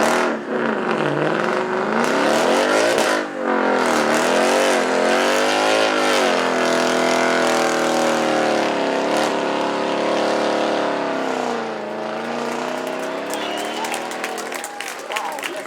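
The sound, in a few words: car doing a tyre burnout at Beaulieu Supercar Weekend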